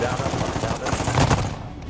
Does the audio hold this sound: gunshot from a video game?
yes